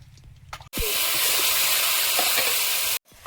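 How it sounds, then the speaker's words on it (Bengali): Vegetable curry sizzles loudly in a little oil in a wok, a sudden steady frying hiss that starts abruptly and cuts off just as sharply, with quieter kitchen sounds before and after. "অল্প একটু তেল আছে কড়াইতে, ওতেই তরকারিটা বসিয়ে দেবো"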